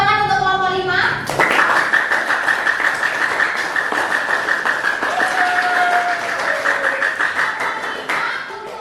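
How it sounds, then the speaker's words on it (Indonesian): Steady burst of clapping from a classroom audience welcoming presentation group 5, many hands applauding together loudly for several seconds, with a voice and a brief tone sounding over it near the start. "Tepuk tangan untuk kelompok 5."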